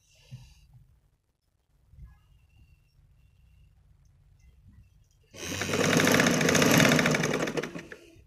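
After a few quiet handling noises, a sewing machine runs loudly for about three seconds, stitching a folded fabric hem with a fast, steady mechanical chatter.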